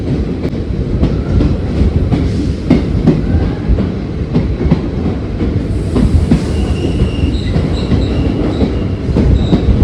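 A loud, continuous train rumble with rhythmic clacking wheels and occasional metallic squeals, echoing inside a very long tunnel.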